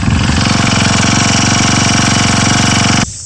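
A Husqvarna 324L four-stroke gas string trimmer runs off choke at a steady, loud, buzzing engine drone close by. It cuts off abruptly just before the end, leaving a quieter background.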